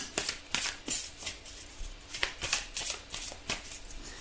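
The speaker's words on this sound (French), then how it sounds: "Alors on va tirer une carte pour voir le conseil pour vous." Tarot cards are shuffled by hand in a quiet room, a series of soft riffling bursts and taps repeating roughly every half second, faint and close.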